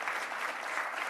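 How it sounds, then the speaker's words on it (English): An audience at a mayors' conversation event in Cleveland claps in a short, dense burst of applause, steady and fairly close, with no voices over it. "Let's give her a round of applause if we can."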